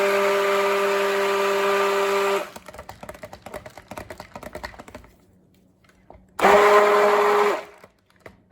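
Stick blender whirring loudly through cold process soap batter, running steadily for a couple of seconds, then a pause filled with faint tapping and clatter before a second short burst of blending.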